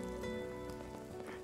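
Steady rain falling in Final Fantasy VII Remake, a soft, even patter under sustained tonal game music, quiet and unbroken throughout.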